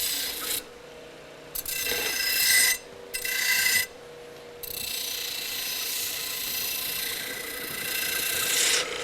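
Sandpaper of 120 grit rasps across metal edges in close, scratchy passes: several short strokes broken by brief pauses, then one longer continuous run of grinding.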